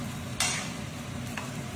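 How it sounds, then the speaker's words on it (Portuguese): A spoon scraping a pan while stirring mexidão mineiro, giving two brief, harsh scrapes over a steady background sizzle, with no talk. "Arranha a panela, arranha."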